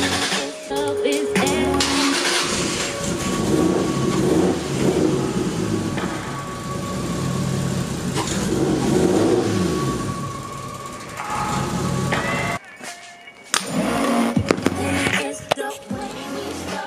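Toyota Supra engine running rough with a misfire, a sustained loud, ragged rumble with uneven revs, then a brief cut-out near the end before the engine picks up again.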